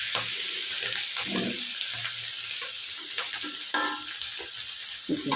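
Sliced bitter gourd (karela) fries in a pan with a steady, close sizzle, broken by occasional clinks and scraping stirs of a spatula.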